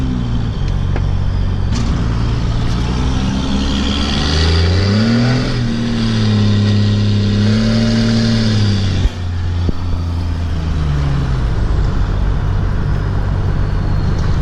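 A 12-valve diesel truck engine with a small 4-inch exhaust stack idles loudly, then revs up and down in a couple of rising and falling surges before settling back to a steady rumble.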